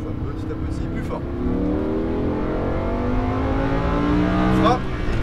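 A Lamborghini Huracan on a race track at a Lohéac driving course revs and accelerates through rising gears, its engine loud and close, with a brief sharper burst near the end while a voice speaks over it.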